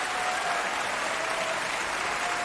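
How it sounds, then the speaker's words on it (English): Dense, steady hand claps fill a hip hop beat, a continuous applause-like wash of claps at even loudness with no voices. "Let me put the hand claps louder."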